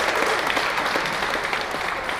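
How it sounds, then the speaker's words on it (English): Dense, steady applause from a large arena crowd at a hockey game at the Air Canada Centre, rolling continuously at full volume throughout with no pauses. "Simon says give her a nice big round of applause"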